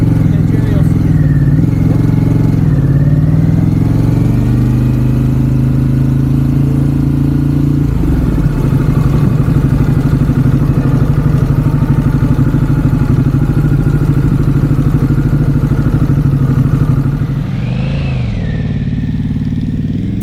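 A motorcycle on a riding course runs close by, its engine idling and rumbling loudly and steadily, shifting tone partway through, with people talking over it.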